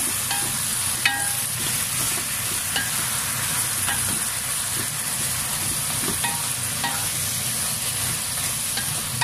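Leftover lechon manok paksiw with soy sauce and vinegar is stirred in a hot pan, a continuous loud sizzle and bubbling hiss with repeated light utensil scrapes and taps at an uneven pace, close up with no talk.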